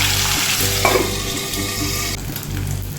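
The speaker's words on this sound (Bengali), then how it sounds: "মাছ ভাজা আমার হয়ে গেছে।" Two rohu fish pieces rubbed with salt and turmeric fry in oil in a covered pan, giving a steady, close, continuous sizzle with no talking.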